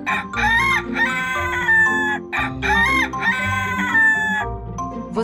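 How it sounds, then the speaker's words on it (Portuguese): A rooster crows loudly twice in close succession, each call a long, harsh, rising and falling cock-a-doodle-doo. "É um galo."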